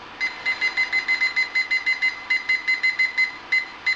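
A Robobrew / Brewzilla brewing system's timer beeps in quick regular bursts as it is set for a mash, a thin electronic chirping pattern with a short pause partway through.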